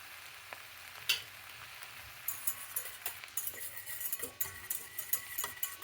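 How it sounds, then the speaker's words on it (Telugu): Turmeric and coriander powder frying in a pan for a lobiya and methi curry, a soft steady sizzle with scattered clicks and light scraping of a utensil, faint and close, no voices. "పసుపు, ధనియా పొడి అంతా వేసి ఒక 2 నిమిషాలు వేగనిచ్చి"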